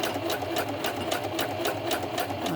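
A Singer Heavy Duty 4452 sewing machine runs steadily at close range, its needle thumping in a fast even rhythm with a whirring motor underneath and no talk.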